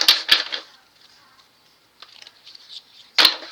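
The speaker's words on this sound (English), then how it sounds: "I want to shuffle the cards as well." Crisp riffling bursts of a card deck being shuffled, a loud flurry at the start, softer fluttering in the middle, and another sharp riffle near the end.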